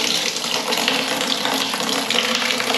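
Steady rushing water pours from a tap into a bucket for a tabo scoop shower in a simple bathroom, a continuous close gushing fill with no talking.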